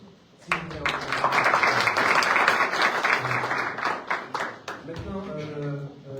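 An audience claps at a Mimiche Diabaté event, the applause rising sharply after a brief pause and swelling into a dense, sustained burst before thinning out, with voices calling over it near the end.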